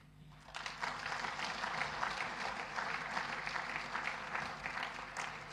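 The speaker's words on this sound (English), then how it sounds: "I would also request member states to give 2 rounds of applause, one for the Republic of Angola" Delegates of member states applauding the Republic of Angola at a formal meeting, a steady, moderately quiet round of clapping that starts after a brief pause and continues evenly.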